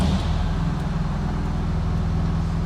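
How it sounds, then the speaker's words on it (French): A Fiat 124 Spider engine fitted with a changed exhaust idles steadily close by, a low, even rumble with a throbbing pulse that holds alone for the whole stretch. "T'as changé les échappements, Farid."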